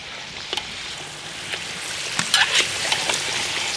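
Potatoes frying in hot oil in a kazan for an Uzbek rabbit kebab dish, giving a steady, moderate sizzle with scattered crackles and pops throughout.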